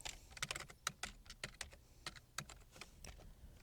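Typing on a computer keyboard, a quick irregular patter of soft, close key clicks with no talking.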